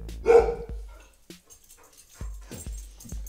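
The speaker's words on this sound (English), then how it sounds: "Don't bark during my recording!" A dog barks indoors in a few loud, sharp bursts separated by quiet gaps, with a short whimpering yelp mixed in.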